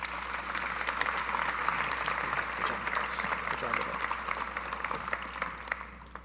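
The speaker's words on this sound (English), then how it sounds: "a round of applause for Joe Callahan" An audience at a college football awards ceremony for the Gagliardi Trophy applauds a finalist, sustained moderate clapping filling the room throughout without a break.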